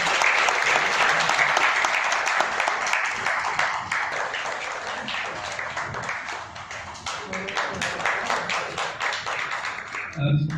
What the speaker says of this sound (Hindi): मैं अब अपने मामा एक बार जोरदार तालियां बजानी चाहिए।